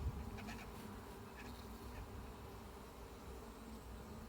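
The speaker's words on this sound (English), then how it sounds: "Just see this bee right at the bottom here, carrying his pollen in 2 big yellow sacks stuck to his legs." Honey bees at an open beehive hum in a steady, dense buzz, close and continuous with faint individual wingbeats passing.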